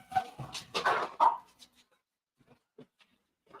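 Dogs bark indoors in a room, a burst of several loud overlapping barks followed by a few fainter, scattered yips and whimpers as the noise dies down.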